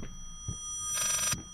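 Telephone ringing inside the horror video game Layers of Fear: a single bright, buzzy burst of ring, about half a second long, fairly loud against a low background hum with soft thuds before and after.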